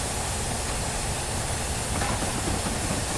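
A steam locomotive runs in a train simulator game on the line over Shap, giving a constant loud hiss and rumbling roll with faint wheel clatter and no pauses.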